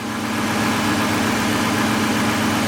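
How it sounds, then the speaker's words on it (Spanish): A 1998 BMW 540i with a 4.4-liter V8 idles with a slight misfire, a steady low mechanical rumble with an even, continuous hum and no voices. "Tenemos el carro así en idle, nada más en relentí."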